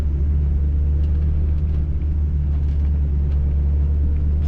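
A 1963 Chevrolet Bel Air two-door post's engine rumbles low and steady while driving through a corner in third gear, a continuous deep drone with light road noise above it.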